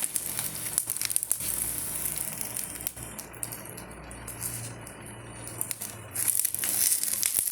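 Ottada, a Kerala rice snack, frying in a pan: a steady, close, bright hiss of sizzling oil with soft crackles and small bumps, swelling louder toward the end.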